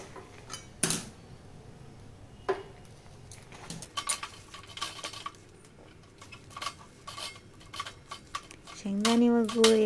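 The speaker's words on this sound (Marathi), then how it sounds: "आता मी हे दोन्ही गूळ व शेंगदाणे यांचं दोन्हीचं मिश्रण छानपणे एकत्र तयार करून घेते" Jaggery and roasted peanuts being stirred together in a pan for homemade chikki, with scattered metallic scrapes and clinks of the spoon against the pan, sparse then busier, and a voice near the end.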